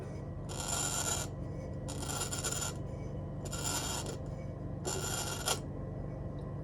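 A homemade bottle cutter scores a glass bottle as it is turned. The blade makes four evenly spaced, bright raspy scrapes over a low steady background hum, and no one talks.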